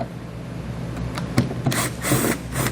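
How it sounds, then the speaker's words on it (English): Two Phillips head screws being run out of a license plate holder frame on a 2012 Infiniti G25 during a trailer hitch install, heard as a few close, short rasping turns and clicks of a screwdriver. "So we're just going to have 2 Phillips head screws here. We'll run those out."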